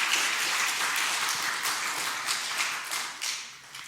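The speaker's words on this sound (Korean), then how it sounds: "박수 한번 해주세요." A church congregation applauds during a sermon, dense steady clapping from a crowd that holds for several seconds and then thins out.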